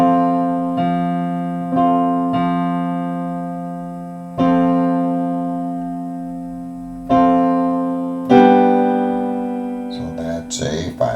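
Sustained keyboard chords in a gospel progression move through a diminished passing chord, each chord struck and left ringing, five or six changes in steady succession, clear and close with no talking.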